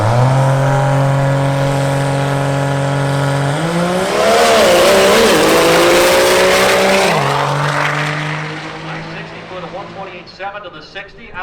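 A drag racing truck makes a full pass down the strip, its engine roaring loudly as it climbs through the revs, shifts and pulls away, then fades into the distance.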